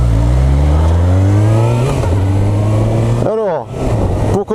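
A motorcycle engine revs loudly up close, a rising drone that steps up in pitch and then drops with a sharp swooping burst near the end, with talking mixed in.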